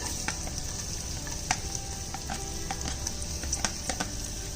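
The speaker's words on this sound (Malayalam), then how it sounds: "ഇതിലേക്ക് നമുക്ക് അരിഞ്ഞു വെച്ചിരിക്കുന്ന സവോളയും കൂടെ ചേർത്ത് കൊടുക്കാം." Chopped onions frying in a pan for vegetable biryani, a steady close sizzle with occasional crackles and pops as they are stirred.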